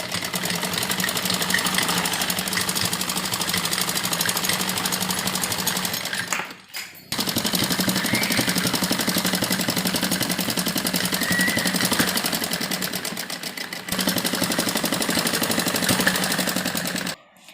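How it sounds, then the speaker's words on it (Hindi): A sewing machine stitches fabric pieces together with a rapid, dense mechanical chatter. It runs in long continuous bursts, broken by two brief pauses. "पूरा कपड़े को आपस में मिलाते हुए सिलाई लगानी है।"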